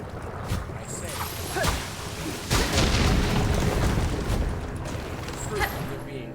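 Bombs detonate in the video game Steel Soul, producing repeated loud, rumbling booms that swell and overlap into a dense, continuous roar with sharp bursts on top.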